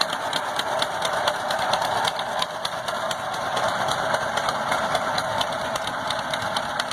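A 1941 John Deere H tractor engine runs steadily on a test drive, a rhythmic mechanical chug with rattling knock, near and continuous without talk.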